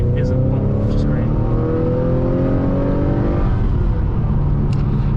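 A 2021 Acura TLX's 2-liter turbo engine revs and pulls strongly with a rising droning whine, loud and close, steady throughout.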